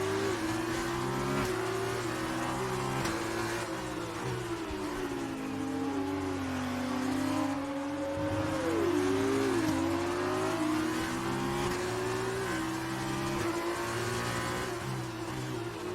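Formula 2 race cars at the Baku circuit in F1 2019 whine steadily up close, engine pitch sliding down under heavy braking and climbing again as they accelerate, continuous for the whole stretch.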